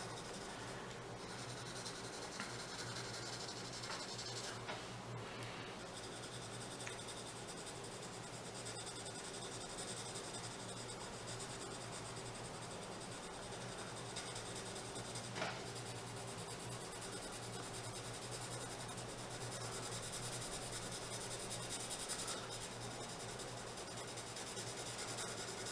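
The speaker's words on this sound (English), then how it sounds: "You could also try like moving your pencil in a circular direction." A pencil shades on paper in small circular strokes, a soft, steady, close scratchy rub that continues without pause and with no talk.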